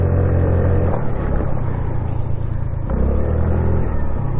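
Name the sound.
Honda Navi motorcycle engine revving while drifting in snow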